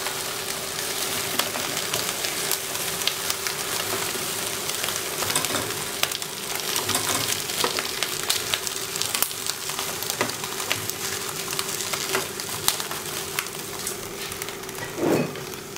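Garlic and shallots frying in oil in a pan for Thai nam prik num, a steady close crackling sizzle with scattered sharp pops throughout and a brief stir near the end.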